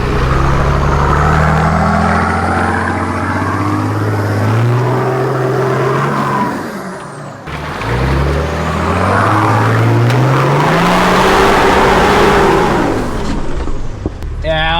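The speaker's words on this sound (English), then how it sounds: "That was second gear full noise." 4WD engine revving hard in second gear at full throttle on a steep, wet forest track, its roar rising and falling in long sweeps, loud and close, with a brief dip midway and wind or road noise around it.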